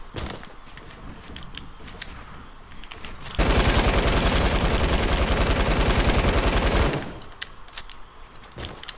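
A light machine gun in the Fortnite battle royale game fires one continuous burst of about three and a half seconds, loud and rapid, between quieter stretches of footsteps and game ambience.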